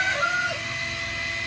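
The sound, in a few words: Dong Tao chicken rooster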